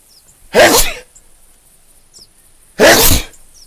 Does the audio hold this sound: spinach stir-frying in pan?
no